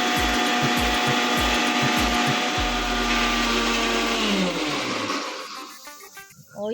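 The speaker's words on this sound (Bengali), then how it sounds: "আমি বসে বসে মশলা বাটছি।" Spices are ground by hand on a grinding stone at home in a rhythmic run of rough, scraping strokes, close and loud, then a long continuous rub that fades out near the end.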